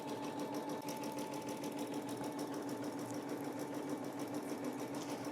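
A Brother embroidery machine stitches out a third-party design with a steady, even mechanical whir and a rapid needle rhythm. The sound is continuous and moderately quiet throughout, with no talking.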